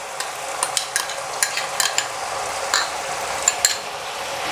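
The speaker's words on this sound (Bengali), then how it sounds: "এবার টক দই দিয়ে খুব ভালো করে মশলাটার সঙ্গে মিশিয়ে দেব।" Hung curd is stirred into spice masala frying in oil for potato-paneer dum biryani, a steady soft sizzle with repeated quick scraping stirs of a spoon against the pan, no talking.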